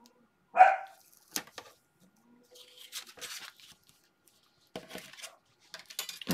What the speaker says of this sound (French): Entre mes chiens qui aboient et mon voisin qui scie tous ses arbres, j'en peux plus.